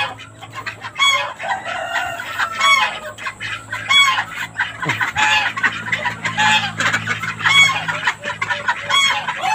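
Backyard poultry, Hubbard chickens and Pekin ducks, clucking loudly and steadily nearby, with repeated rooster crows cutting through the continuous cackling.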